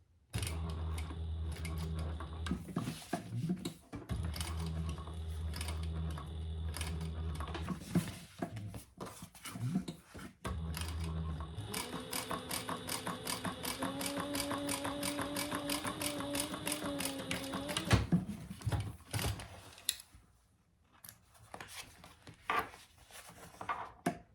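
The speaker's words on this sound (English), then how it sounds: "I just top stitched that" A sewing machine topstitches the gusset of a crossbody bag in bursts of rapid, even needle chatter, with short pauses and handling clicks between runs and a longer steady run in the middle.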